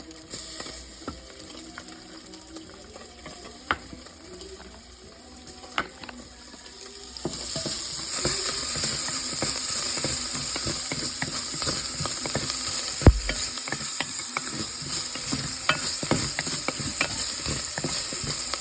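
Garlic frying in a pan for chicken sotanghon soup, a quiet crackle at first that jumps to a louder, steady sizzle partway through, with occasional stirring clicks and one sharp knock near the end.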